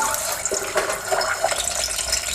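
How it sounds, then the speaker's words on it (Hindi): Eggs dropped one by one into hot oil for an egg and potato curry sizzle and crackle steadily, with a bright, even frying hiss and small popping spatters close by. "अब हम इसमें एक एक करके अंडा डालेंगे और इसको हल्के से घुमा देंगे।"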